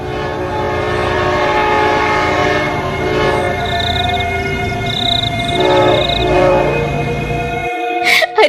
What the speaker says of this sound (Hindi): सामने पीछे से ट्रेन उसकी ओर आ रही होती है